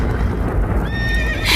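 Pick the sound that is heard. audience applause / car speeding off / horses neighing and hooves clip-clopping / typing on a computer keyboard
horses neighing and hooves clip-clopping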